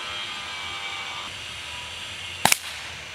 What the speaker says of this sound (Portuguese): vai dar um tiro aqui.